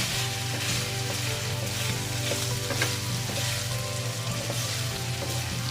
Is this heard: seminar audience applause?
no